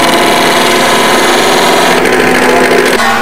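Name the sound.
wood lathe running in school woods lab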